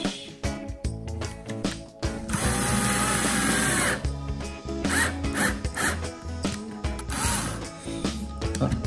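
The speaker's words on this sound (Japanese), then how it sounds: "今日は電動ドリルを使います" A loud, close power drill whirs in bursts through a small painted canvas for a brooch, running steadily for a couple of seconds at a time with brief pauses between.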